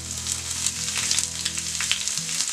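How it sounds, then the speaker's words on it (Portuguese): Onion frying in olive oil in a pan, a steady close sizzle with a broad hiss running throughout, a low hum underneath and small bursts of crackle. "Depois vamos pegar essa cebola e fritar ela com azeite"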